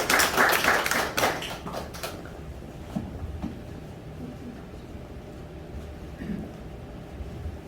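Applause from a seminar-room audience welcoming a lecturer to the stage at an industry-academia forum; a short, dense burst of clapping at the start that quickly thins and dies away into quiet room tone with a few faint taps.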